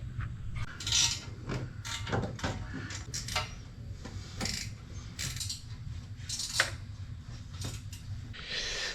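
A ratchet works loose the bolts on a car's exhaust header during an exhaust leak repair, with close, repeated clicking bursts and metallic clanks at an uneven rhythm, with no talking.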